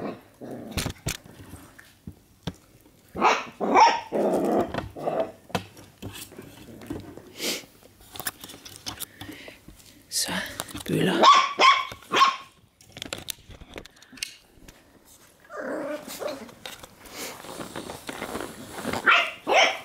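A dog barks and growls in repeated bursts close by, with brief pauses and quieter stretches between the louder outbursts.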